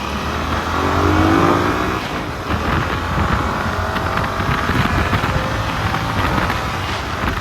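A Yamaha R7 motorcycle with its restrictor removed accelerates hard, its engine note climbing in rising sweeps through gears over heavy wind rush, loud and close throughout.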